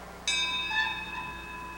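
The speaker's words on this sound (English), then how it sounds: "It must be the bell they ring for Peter. Yes, here is the cord." A bell rung by pulling its cord, giving a single bright clang that rings out with a sustained, slowly fading metallic tone, close and alone.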